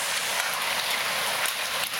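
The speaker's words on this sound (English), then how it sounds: "The spring rain and raining" Steady hiss of icy rain falling in spring in Japan and pattering on surfaces, with scattered brighter ticks of pellets striking, continuous and fairly close.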